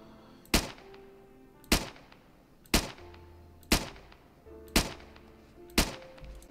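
Six loud, evenly spaced gunshots fired at zombies in a Minecraft zombie apocalypse game, each a sharp crack with a short decay, about one per second over a low game hum and soft tones.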